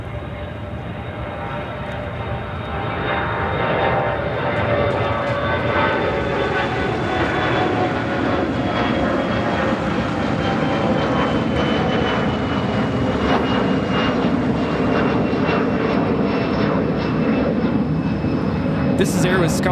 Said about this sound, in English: This is Air Wisconsin, flight 6078, taking off to Wichita on the CRJ200 LR in the retro livery.